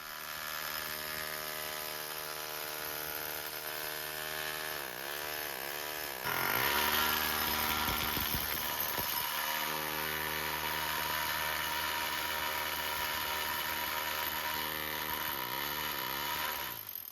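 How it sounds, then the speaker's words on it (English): A hammer drill vibrating wet concrete runs continuously with a harsh, steady motorized drone, growing louder and rougher midway as it bites into material, with pitch wavering at times. "I find it's just as convenient to grab the hammer drill"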